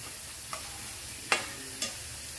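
A spoon stirs coriander powder and garam masala into a tomato masala for bhindi masala, giving three short scraping strokes against the pan over a quiet, low background sizzle.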